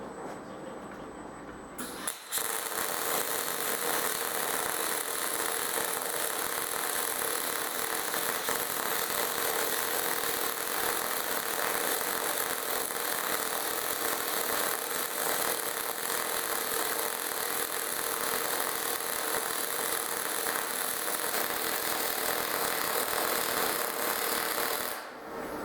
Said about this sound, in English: Pretty nice little MIG weld in there.